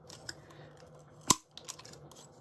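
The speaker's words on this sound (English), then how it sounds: "Then I want to make a hole in this little piece of leather." A single sharp, crisp snap as a large-bite hole punch cuts through a small piece of leather in a craft room, with soft handling clicks before and after in an otherwise quiet setting.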